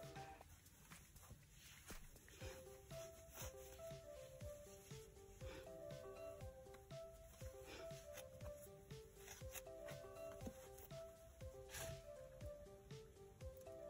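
Soft polyfill fiberfill is pushed into a fabric robot plushie, making a continuous quiet rustling and squishing with light rubbing, under faint tonal background music.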